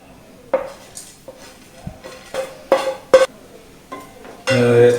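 Flattened rice (aval) is stirred in a metal vessel with roasted cashews, split roasted chickpeas and sesame, giving intermittent scraping clinks and clatters of a spoon, then a louder sustained rattle at the end.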